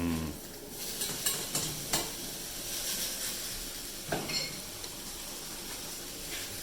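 Garlic pieces and rice frying in a pan, a soft continuous sizzle heard close with scattered scrapes and clicks of stirring.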